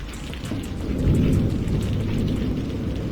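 In a Hindi cartoon, heavy rain pours steadily while a deep roll of thunder swells and fades over about three seconds, with no voices.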